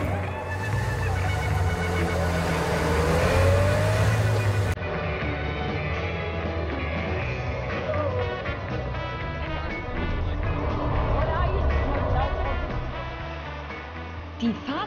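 An old East German GDR car drives on a trip around Kraków, its steady low engine rumble running throughout with voices and other sounds layered over it.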